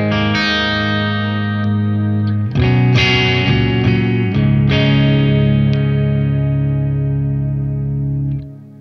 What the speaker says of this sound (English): boost is off and the mid is cut